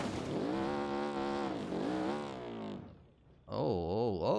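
Car engine in BeamNG.drive revs and roars with a smooth, strongly tonal note rising and falling, drops off briefly to near quiet, then returns loud with wavering pitch as it accelerates, no talk over it.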